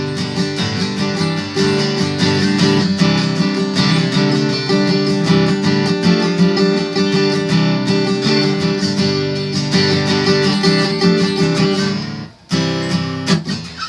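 An electric guitar solo played up to speed with hammer-ons produces quick, fluid note runs over sustained tones, loud and close, with a brief dropout near the end before playing resumes.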